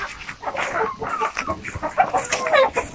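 Native chickens in a backyard poultry house cluck and squawk continuously at close range, several birds overlapping in an uneven, busy chatter.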